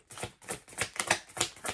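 Tarot cards shuffled by hand, a run of quick papery riffles and slaps in an irregular rhythm, close and fairly quiet, with no voices.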